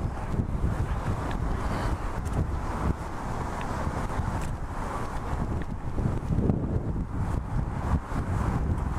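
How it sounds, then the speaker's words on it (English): Strong, steady wind buffets the microphone in an open lakeside space near BMO Field stadium at Exhibition Place in Toronto, a loud, continuous low rumble with no pauses. "the wind got slightly stronger right now"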